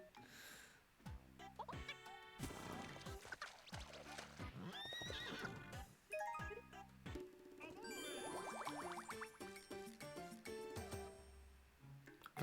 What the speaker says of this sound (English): The horse again.